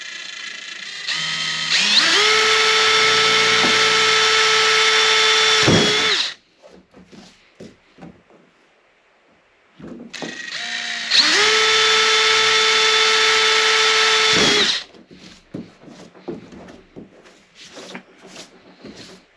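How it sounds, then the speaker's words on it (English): Power drill boring 5mm holes into a plastic fishing kayak, in two steady, loud whirring bursts of about four seconds each, separated by a short pause and quiet handling noises. "I'm just going to have to drill a couple of 5mm holes into this kayak"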